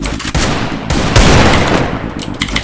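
Gunfire in the video game Free Fire: loud, rapid bursts of automatic shots crackle close up, with sharp single reports mixed in and no talking.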